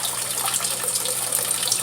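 An aquarium water pump pouring murky tank water into a bucket during a deep water change, a steady, close splashing gush with no break and no voices.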